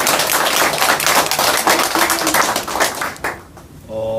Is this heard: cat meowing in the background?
no